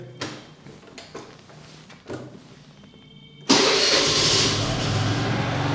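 A cold TVS Jupiter scooter engine turns over on its electric self-start and catches at once, settling into a loud, steady idle close by after a few seconds of quieter shuffling noises.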